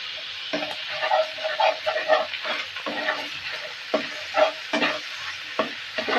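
Country chicken seasoned with salt, cumin, coriander and chili powder sizzles in a pan while a spoon stirs it repeatedly, giving rhythmic scraping clatters over a steady close fry.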